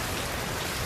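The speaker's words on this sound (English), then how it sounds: "Of course, it's raining." Heavy rain falling during a tornado storm, a dense steady hiss of drops hitting surfaces, close and unbroken for the whole short moment.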